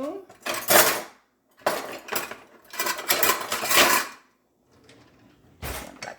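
Spoon and pots clanking on a stovetop while vegan cheese sauce for enchiladas cooks, several bursts of metallic clinks and scraping separated by short pauses, close and moderately loud with no talking.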